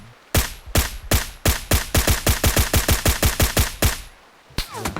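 Rapid gunfire in the battle royale game PUBG, a close, loud run of about twenty evenly spaced shots that speed up into automatic fire, pause, then resume with a couple more shots, with no talking.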